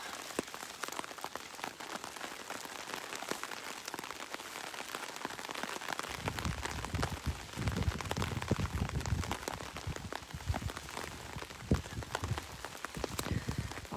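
Steady rain falls at an outdoor tribal council, a continuous hiss with close patters and drips across the whole stretch that grows slightly fuller partway through.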